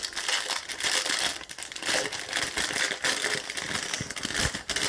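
A plastic zip bag of round diamond painting diamonds being opened, a dense continuous crinkling and rustling of plastic close to the ear, steady throughout with no talking.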